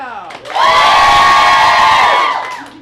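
A game show studio audience swells into loud, sustained cheering and whooping, children's shrill voices prominent, before tapering off.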